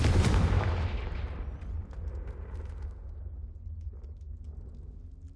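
A Confringo blasting spell explodes in Hogwarts Legacy, a loud boom with a rumbling tail that fades slowly over several seconds, no voices.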